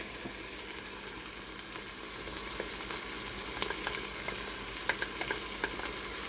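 Garlic sizzling as it is added to browned beef in a pot for beef stroganoff, a dense steady frying hiss with small pops and light stirring clicks, loud and close with no talking.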